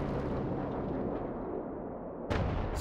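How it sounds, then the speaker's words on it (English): A Golden Maus heavy tank's gun fires in the real-time strategy game WWA RTS: a deep rumbling blast and its long decay, then a sharp new burst near the end. "Gunner, fire!"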